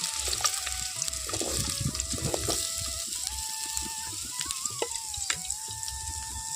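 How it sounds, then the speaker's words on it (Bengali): Large-cut onion pieces fry in oil in a pan, giving a steady, close crackling sizzle with scattered pops and faint stirring, no voices. "পেঁয়াজগুলো এখন এখানে খুব ভালোভাবে ভেজে নেব"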